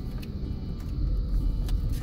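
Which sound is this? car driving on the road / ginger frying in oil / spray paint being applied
car driving on the road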